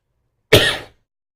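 One short, close cough with a throaty rasp, trailing off quickly into silence.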